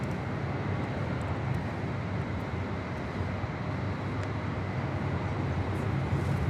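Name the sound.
Airbus A380 aircraft at LAX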